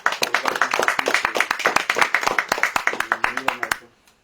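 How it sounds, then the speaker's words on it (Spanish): Audience applause greeting a speaker at a conference on birds in world and local cosmology: dense, steady clapping from a crowd for about four seconds, then quickly dying away. "demos un fuerte aplauso al maestro que hoy nos va a compartir"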